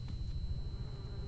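Bees drone in the video game Project 13 Taxidermy Trails, a faint, continuous low buzzing hum with a thin high whine, steady and alone.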